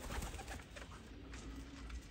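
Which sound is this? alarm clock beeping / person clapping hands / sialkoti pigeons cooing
sialkoti pigeons cooing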